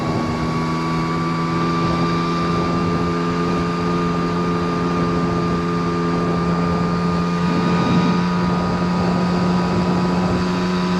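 A 1979 Honda Express moped engine drones steadily while climbing a hill, a constant close buzzing hum with wind rush that rises slightly in pitch near the end.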